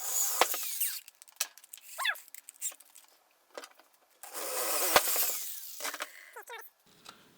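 A drill works on a homemade kazoo, cutting holes in short separate bursts of grinding and whirring with quiet gaps between them.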